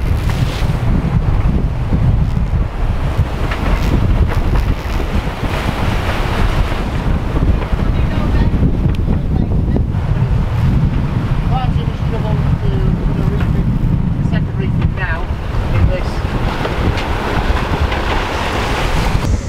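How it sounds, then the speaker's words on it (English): Sailboat under way on the Caribbean Sea between St. Vincent and Bequia, with constant loud wind buffeting and rushing waves against the hull, and voices talking now and then over the steady roar. "we're sailing in the Caribbean"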